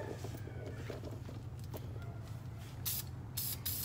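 Aerosol paint sprays onto car brake calipers in a steady close hiss lasting the whole stretch, with brief louder bursts near the end and no talk.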